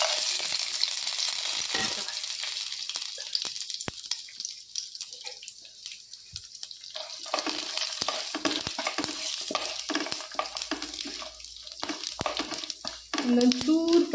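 Whole spices and garam masala fry in oil in a pan, a steady soft sizzle with stirring scrapes and small clicks throughout, fairly quiet, with brief talk here and there.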